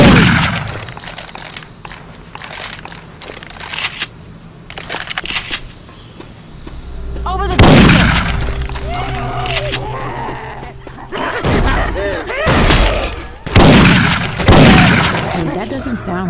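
Left 4 Dead 2 gameplay with Syphon Filter weapon sound effects swapped in: loud bursts of gunfire and single shots come in clusters, mixed with game noises and voices talking between the volleys.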